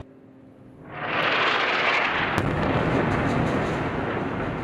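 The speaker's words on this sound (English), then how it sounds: "people in Gaza waking up to another round of punishing airstrikes from Israel" An airstrike explosion in Gaza rolls in from a distance as a deep, rumbling boom that swells after a quiet start and lingers as a long, heavy roar.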